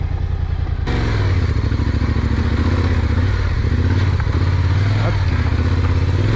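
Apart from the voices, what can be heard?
Yamaha Tenere 700 motorcycle engine revving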